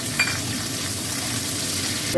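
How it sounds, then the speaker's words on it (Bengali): Large chopped onion pieces fry in hot oil, giving a steady, close sizzling hiss that holds evenly for a couple of seconds with no talking. "এই বড় বড় করে এই কাটা পেঁয়াজগুলো আমি একটুখানি ভেজে তুলে নেব"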